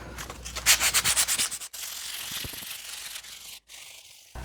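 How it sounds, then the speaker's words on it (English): Sandpaper rubbed by hand over the edges of an old cast hand plane, a run of quick rhythmic scrubbing strokes up close, then a steadier softer rasp with two short breaks. "I'm going to use just a piece of sandpaper to try and get some of these less flat edges."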